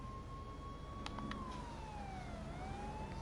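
An ambulance siren wails in a roleplay video game, a steady tone that sweeps slowly up and down. It sounds fairly distant over constant background rumble, with a few brief clicks.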